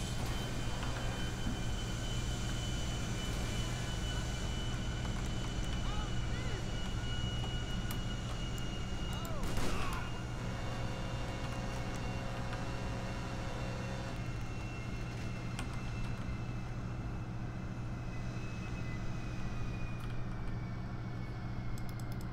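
A fixed-wing aircraft in GTA 5 rolls along a runway while landing, its engine giving a steady, continuous drone with a brief surge of rushing noise partway through, heard alone without talk.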